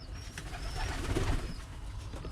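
Birmingham Roller pigeons in a loft, with soft low cooing and rustling close by in a steady murmur of birds, no talk.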